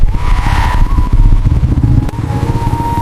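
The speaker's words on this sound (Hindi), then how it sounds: "बाइक को थोड़ा तेज रफ्तार से ले चलो" A motorcycle ridden fast gives a loud, close engine whine that rises and surges in uneven bursts with rough, gritty rumbling underneath.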